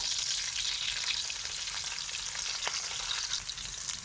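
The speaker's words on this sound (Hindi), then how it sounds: "भिंडी को अच्छे तरीके से फ्राई करेंगे।" Okra frying in a pan, a close, steady bright sizzle with occasional crackles and stirring, continuous throughout with no talking.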